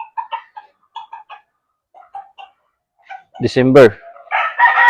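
Gamecock roosters on a farm crow loudly and close, with scattered clucks and soft calls around them, while someone speaks briefly.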